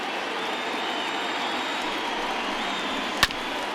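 A stadium crowd of over 39,000 in MLB The Show 20 keeps up a steady, broad roar of cheering and applause, with one sharp crack near the end.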